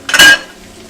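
A metal spatula clanks and scrapes loudly in a hot wok while beef chow fun is stir-fried over high heat. It is a single short, sharp clatter close by that fades quickly.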